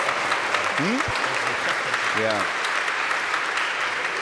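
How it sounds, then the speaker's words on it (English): Steady applause from a church congregation at an Easter Vigil fills the whole stretch, with a couple of brief voices rising above the clapping. "Let's give them a big round of applause."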